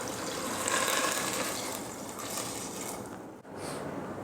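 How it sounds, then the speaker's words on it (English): Water pours in a steady, rushing stream into a pot of vegetables and herbs for broth, a broad continuous splash heard up close that wavers briefly near the end. "And now I'm gonna add the water."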